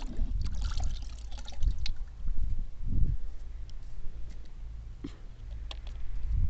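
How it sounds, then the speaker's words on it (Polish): Water is poured out for a hobby horse, a near, steady trickle and splash that rises and falls as the stream shifts, with no voices. "Tylko jej doleję wody."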